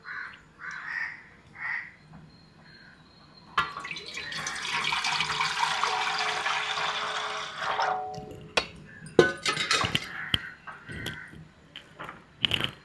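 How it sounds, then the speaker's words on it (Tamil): Water pours in a steady stream for several seconds into a metal pot for cooking sugar syrup, followed by clinks and scrapes of the pot, with crows cawing faintly in the background. "தேவையான தண்ணி ஊற்றிப்போம்."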